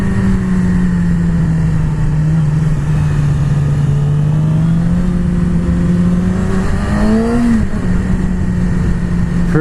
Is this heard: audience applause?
no